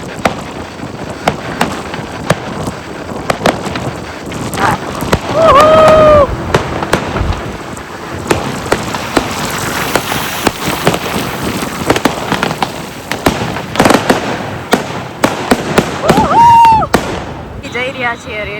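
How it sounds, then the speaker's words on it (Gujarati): Fireworks and firecrackers bursting over a crowded street celebration of India's World Cup win in Ahmedabad, a dense stream of sharp cracks and pops near and far, with whistling rockets rising, under steady crowd noise and people talking. "જોરદાર ફટાકડા ફૂટે છે."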